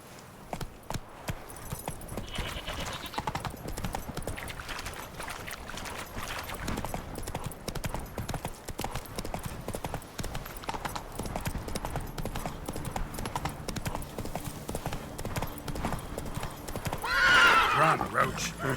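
Roach, the horse in a video game expansion, gallops in a steady clip-clop of hooves with a whinny near the end, while a voice talks over the run.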